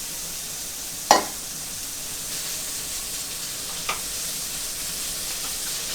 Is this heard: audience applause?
no